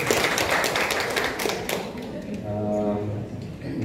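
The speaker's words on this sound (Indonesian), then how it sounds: "Tepuk tangan buat Dekranasda" Brisk, crackling applause for the regional craft council at a gallery opening in Pondok Aren, Tangerang Selatan, fades after a couple of seconds as a voice takes over.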